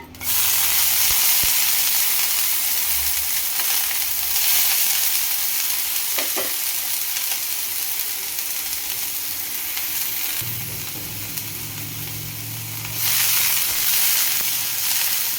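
Washed ridge gourd peels hiss loudly in a hot pan for a peel chutney, a dense continuous sizzle that eases slightly midway and swells again near the end, with a brief stirring scrape.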